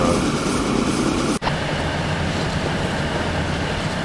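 A train running in the video game Transport Fever 2, a steady broad rumbling roll with a low engine drone, continuous and fairly loud apart from one brief dropout, with no talk.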